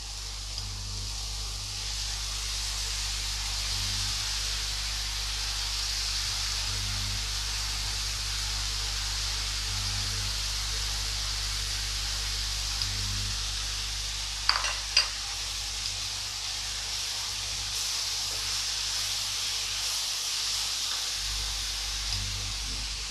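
Karandi shrimp hit a hot tawa pan with tomatoes for a Konkani-style fry, giving a constant, even sizzle with a faint stir or clink near the middle, close and steady throughout.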